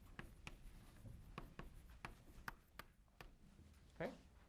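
Chalk or marker writing on a board during a robotics lecture, a series of short sharp taps and scratchy strokes at irregular intervals, faint and close, with no talking.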